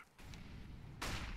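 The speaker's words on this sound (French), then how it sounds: "Flashbang." A flashbang grenade going off in the video game CS:GO, a sudden loud broadband burst near the end of a short stretch of low rumbling game noise.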